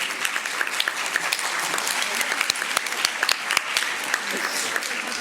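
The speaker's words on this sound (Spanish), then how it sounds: "Un aplauso." An audience at a hospital therapeutic exercise and cancer talk applauds, with dense, continuous clapping from many hands throughout, fairly close and loud.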